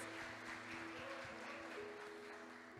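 Church congregation applauding during a sermon, a faint, continuous patter of clapping heard at a distance with a low hum underneath.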